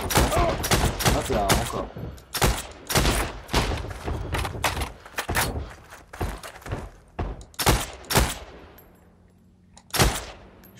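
Gunfire in the Heroes & Generals video game: rapid bursts and single shots crack in irregular clusters, fairly loud and close, with someone speaking briefly between them.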